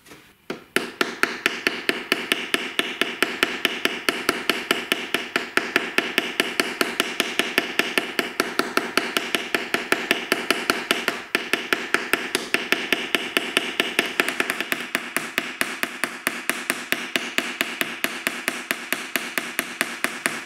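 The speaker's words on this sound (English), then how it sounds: "And finally, I clip each nail before riveting it." A hammer rivets clipped nails on the metal edge reinforcement of a Viking shield, producing a long run of rapid, evenly spaced, ringing metallic blows, loud and close, with no talking.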